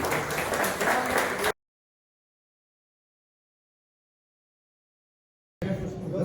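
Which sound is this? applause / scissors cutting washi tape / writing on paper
applause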